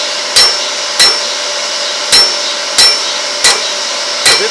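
A hammer strikes hot metal at a forge while a tool edge is beveled: six loud, ringing blows at a steady, unhurried pace, close by and with no voices.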